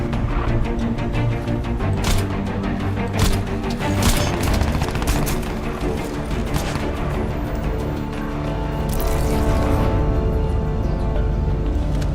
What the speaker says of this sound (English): launching a frag at that distance will do so much good